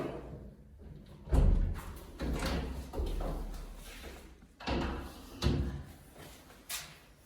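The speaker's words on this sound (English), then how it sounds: "Let me open the door." A door is opened during a property renovation in central Portugal, with a series of knocks, thumps and creaks from handling it, loud and close, spread over several seconds.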